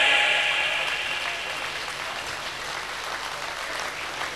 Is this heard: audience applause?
yes